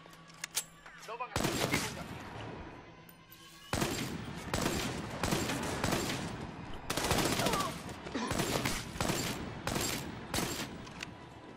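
Bursts of rapid gunfire from the video game Army of Two: The Devil's Cartel, loud and dense, with sustained automatic volleys and short pauses between them.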